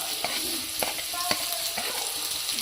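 Four dry red chillies fry in hot oil in a kadai, giving a steady hiss of sizzling with a few sharp crackles breaking through.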